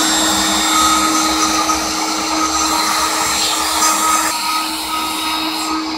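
Shapeoko 3 CNC router cutting two pieces of wood flooring at 75 inches per minute, a loud continuous high whine with a steady tone and faint grinding texture.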